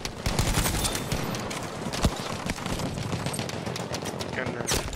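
Rapid bursts of Lewis gun fire in the first-person shooter Battlefield V, close and punchy, with irregular clusters of shots under a player's excited talk.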